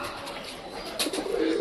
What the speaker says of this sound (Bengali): টোটালি এই পায়রাগুলোকে ঘরে ঢোকাতে হবে।